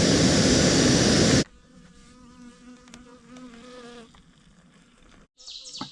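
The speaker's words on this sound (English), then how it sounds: "There's some bees living inside the wood in this shelter" Bees living inside the wood of a trail shelter on the Appalachian Trail buzz in a steady, close droning hum with shifting pitch, following a brief loud burst of noise, then a sharper buzz returns near the end.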